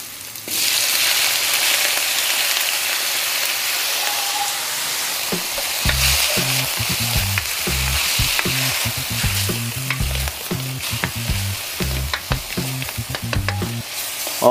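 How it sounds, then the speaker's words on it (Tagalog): Meat stir-frying for bihon vermicelli in a hot pan, a constant loud sizzle with rhythmic scraping and clanking of a utensil stirring, close up and without voices. "Stir fry."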